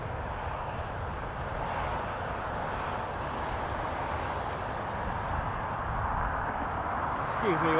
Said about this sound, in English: We're going to catch a Dreamliner on final from Frankfurt.